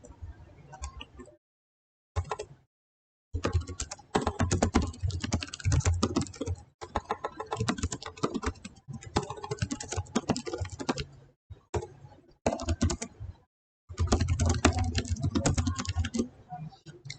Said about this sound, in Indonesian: Lalu di sini untuk title atau judulnya kita ketikkan misalkan multimedia.